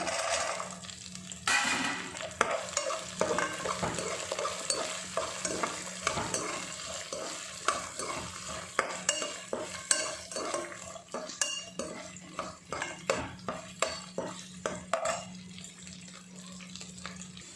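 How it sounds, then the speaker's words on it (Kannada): Green peas and bay leaves go into a hot frying pan for a vegetable pulao, followed by a sizzle and repeated scraping and clinking of a utensil against the pan in an uneven stirring rhythm, with no voices. "ಮತ್ತು ಬಟಾಣಿ ಗ್ರೀನ್ ಪೀಸ್ ಹಾಕ್ತಾಯಿದ್ದೀನಿ ನೋಡಿ"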